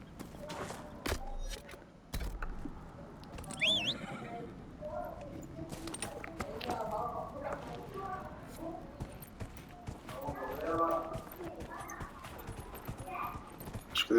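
Horse in Dragon Age: Inquisition whinnying with a rising squeal and clip-clopping along at a steady trot, hooves thudding under scattered game ambience and occasional voices.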